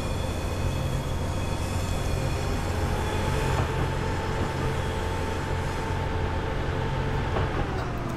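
A training academy train rolling along in Train Simulator 2015, with a steady rumbling drone of engine and wheels on track, continuous and even throughout, no talking.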